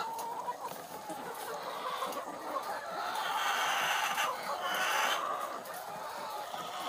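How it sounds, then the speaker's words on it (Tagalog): Several chickens cluck and chatter continuously nearby, a busy flock of laying hens with overlapping calls that swell slightly louder toward the end. "Manok, manok, manok! Ang ingay nyo naman."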